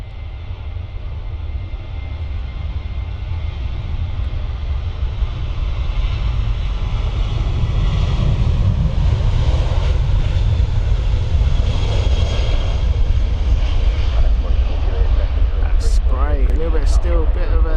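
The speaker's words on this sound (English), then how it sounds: "Another company 737 of Ryanair going out." Ryanair Boeing 737 jet departing from Stansted Airport on a wet runway, its engine roar swelling loudly and holding strong, with people talking over it.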